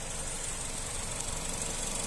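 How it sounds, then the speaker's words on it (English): A 2.0-litre petrol engine in a Nissan Qashqai+2 five-door automatic four-wheel-drive SUV idles smoothly, a steady even hum with light mechanical texture, heard close and alone. "Engine sound nice and smooth."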